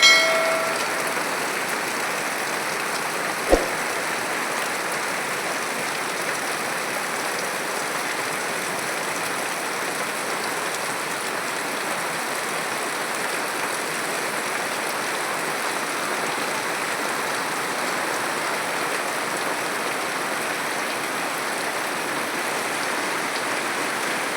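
Heavy rain pours steadily, a dense even hiss that lasts throughout, with one brief knock near the start.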